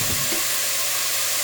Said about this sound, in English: So saute this a little bit.